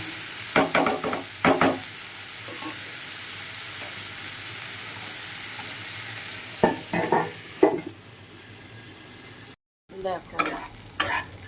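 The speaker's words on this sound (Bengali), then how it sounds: "চিচিঙ্গার কাঁকরোলটা ভাজছি।" Snake gourd with salt, turmeric and two green chillies fries over a low gas flame, giving a steady hiss broken by bursts of scraping stirs; a voice briefly speaks near the end.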